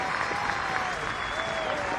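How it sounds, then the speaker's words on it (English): Baseball crowd applauding at a Corvallis super regional game between Oregon State and Minnesota, a steady wash of clapping from a large stadium audience held at even level throughout, with a faint whistle-like tone drifting over it. "Femmel gets a round of applause here in Corvallis."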